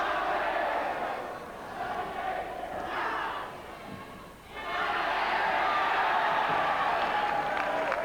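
The crowd at the 1996 men's singles badminton final roars and cheers loudly, dips briefly, then swells up again into a sustained, full-hall roar.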